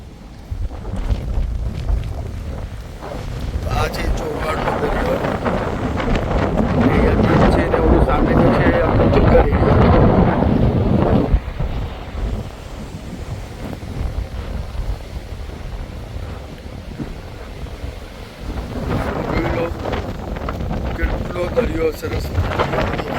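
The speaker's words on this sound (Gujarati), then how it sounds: "તમને અહીંયાનું દરિયો બતાવી દઉં હવા જો કેટલી સરસ છે" Steady loud wind roaring across the microphone at the seashore in Chorwad, gusting stronger in the middle and easing toward the end.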